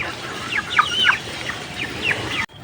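A Rhode Island Red chicken clucks close by in a series of short, uneven calls over a quiet background.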